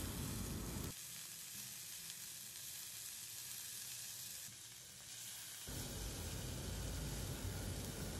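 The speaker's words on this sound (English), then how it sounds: "We stir the veggies with these seasonings for another 2 minutes or so" Vegetables sauté in a pan with mixed herbs and seasonings, giving a steady, hissy sizzle. It runs throughout and is brighter and louder at the start and end, with a softer stretch in the middle.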